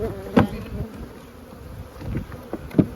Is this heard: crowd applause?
no